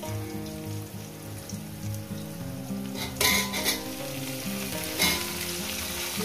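Okra tipped into a pan of frying potatoes sets off a steady sizzle, with louder bursts of crackle and scraping as the vegetables hit the hot oil, under a low background hum.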